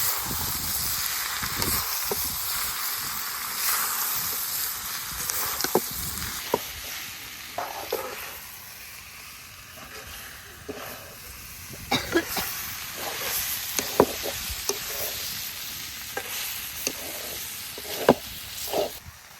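Meat fries with turmeric and ginger-cumin paste in a pan, a loud, steady sizzle broken by repeated scraping and clacks of a stirring utensil, with no speech over it.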